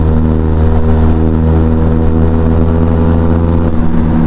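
A Benelli TRK 502 motorcycle fitted with a barrel exhaust idles and revs close by, giving a loud, steady, bassy engine drone with small swells in pitch and no voices.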